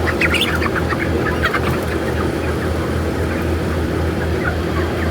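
Broiler chickens in a fan-controlled shed keep up a constant, crowded clucking chatter over a steady low hum of running fans.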